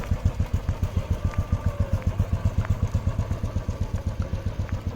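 A Royal Enfield Bullet motorcycle's single-cylinder engine thumps with a steady, rapid, even beat as a learner rider holds the throttle and eases the clutch; close, loud and continuous throughout with no talk.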